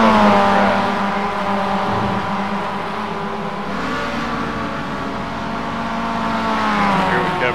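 A Mazda MX-5 race car's engine drones steadily down the long front straight toward turn one, a loud sustained whine that swells and eases slightly without a break.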